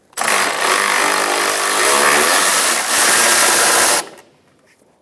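A power tool buzzes loudly and continuously for about four seconds while backing out a bolt holding the windshield washer reservoir on a 2005-2010 Chrysler 300, then cuts off abruptly into quiet.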